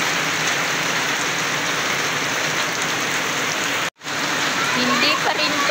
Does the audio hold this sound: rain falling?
yes